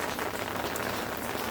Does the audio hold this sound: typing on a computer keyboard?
no